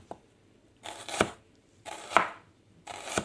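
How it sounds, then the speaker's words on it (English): An onion being sliced with a knife, giving three distinct slicing and chopping bursts roughly a second apart, close and clear with quiet gaps between. "just slice the onion just like this"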